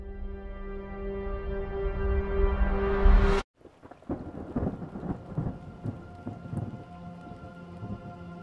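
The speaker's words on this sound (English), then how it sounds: "The storm, a dark night and the storm." A thunderstorm at night: steady rain builds into a loud, close thunderclap that cuts off sharply, followed by rain pattering and rumbling thunder continuing.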